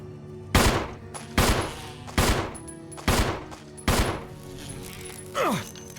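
Rapid gunfire in Resident Evil 1, five loud evenly spaced shots each with a short ringing tail, followed by a brief descending whine at the end.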